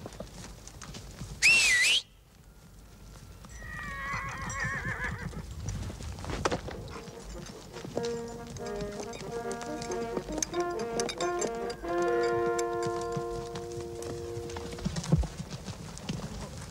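A horse whinnies loudly, then hooves clip-clop steadily at a walk beneath a light melodic background.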